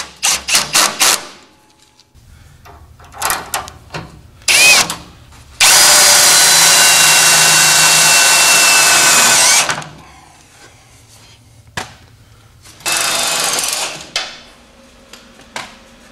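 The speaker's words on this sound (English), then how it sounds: "Just using some self-drilling 1/4 inch screws" A power drill driving self-drilling 1/4 inch screws into the frame of a 1986 GMC square body truck: short bursts, then two long loud sustained whines, with clicks and handling noises between, close up.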